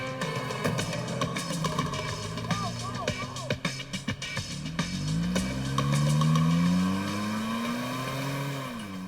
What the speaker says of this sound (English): They escape in her car.